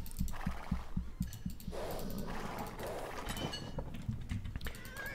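Horse hooves clopping in Age of Empires 2: Definitive Edition, a quick run of regular, near strikes at the start, then a dense, steadier mix of hoofbeats and game ambience.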